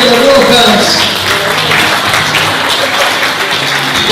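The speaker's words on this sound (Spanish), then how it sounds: "Fuerte aplauso para Marcelo Rojas." Loud, dense applause greets Marcelo Rojas at a journalists' day event in Villa Angela, many hands clapping steadily from start to finish, with voices mixed in beneath.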